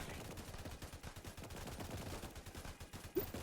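Towers shooting in a Roblox Tower Defense video game, a quiet, steady stream of rapid gunfire-like shots under faint background game sound.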